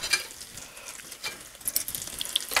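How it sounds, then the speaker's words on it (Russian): Potato-filled pirozhki frying in a pan of hot oil, a steady soft sizzle and crackle with scattered sharper pops, close and moderately quiet, no talking. "Все, пусть жарится."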